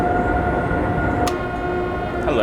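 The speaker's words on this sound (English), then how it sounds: "Oh, there's another train." A train passing in Train Sim 2014 on the Three Country Corner route, a steady loud rumbling drone with sustained tonal hum, a brief sharp click midway and a rising whine near the end.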